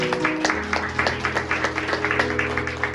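A church congregation claps together in steady, rapid applause that carries on for a few seconds over a low background hum.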